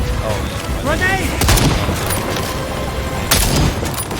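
Gunfire and a grenade blast in the dinosaur-hunting shooter game Second Extinction, with loud broadband bursts of shots and a booming explosion near the middle and end, mixed with voices and game sounds.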